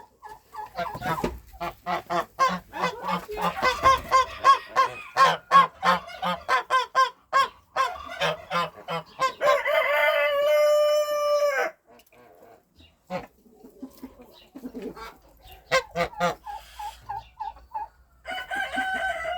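A domestic goose honks repeatedly at close range, loud rhythmic calls in bursts with short pauses, in a poultry shed while hens are being set on goose eggs.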